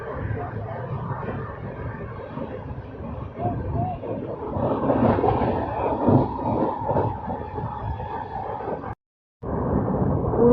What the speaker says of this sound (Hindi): ये पटना तेजस राजधानी एक्सप्रेस।